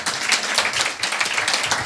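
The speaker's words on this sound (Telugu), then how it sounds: "యేసు ప్రభువును బట్టి అందరం చప్పట్లు కొడదుము గాక" A church congregation claps together in a steady, dense burst of applause that stays loud and even throughout, with no voices over it.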